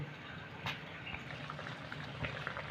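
Bihari litti dough balls boil in a pot of water, a faint steady bubbling simmer with occasional soft pops, no voices.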